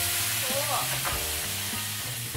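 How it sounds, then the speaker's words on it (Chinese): Dried chillies stir-fried in a little hot oil over high heat for spicy chicken cubes, giving a steady, close sizzle with faint stirring scrapes and no talk. "慢慢的炒出它的辣的香味儿"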